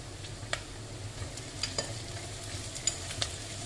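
Quiet, steady frying sizzle of onions with garlic-ginger paste in a pan, with occasional soft stirring clicks and scrapes.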